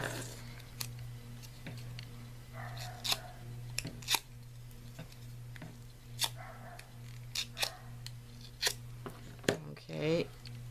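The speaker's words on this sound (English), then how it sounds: "I'm going to maybe use some scissors to do that" Scissors snip through paper while a pumpkin-shaped paper decoration is trimmed, giving a series of short, sharp, irregular cuts close by against a steady low hum, with a person speaking between the snips.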